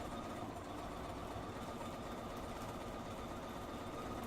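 Sewing machine stitching a 5/8-inch seam, giving off an unbroken, fairly faint motor whir that holds steady from start to finish with no voices.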